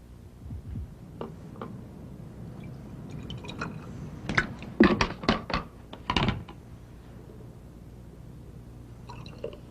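Bubbles pop and fizz in a liquid during a chemical reaction in a chemistry demonstration, a cluster of sharp ticking bursts rising to a loud peak in the middle, then fading to quiet.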